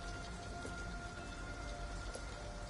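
Steady rainfall in Detroit: Become Human, a constant wash of drops with faint steady tones beneath, even and unbroken throughout.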